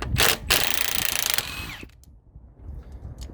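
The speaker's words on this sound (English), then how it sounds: "why are you using an impact on all this stuff?" An impact wrench works on a big block engine teardown, giving a loud, close burst of rattling hammering for about a second and a half, then cutting off to quiet shop background.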